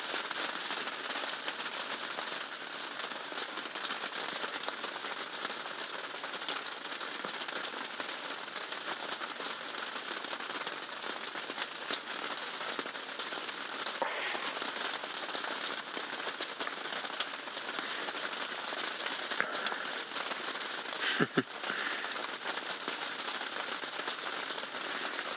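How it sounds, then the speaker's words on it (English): Rain drumming on a roof during a safari drive, a dense, steady hiss of drops that holds at an even level throughout, with one sharper crack near the end. "Still that wonderful sound of the rain hitting the roof."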